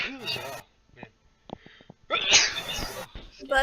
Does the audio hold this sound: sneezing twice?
yes